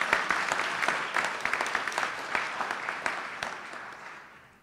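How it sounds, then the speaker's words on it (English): Audience at a public event in West Louisville, Kentucky, with the governor announcing investments at a Goodwill opportunity campus, applauding in a dense patter of many hands that holds steady, then tapers off near the end. "You can applaud for that."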